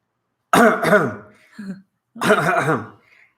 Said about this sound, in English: It's a really wimpy cough.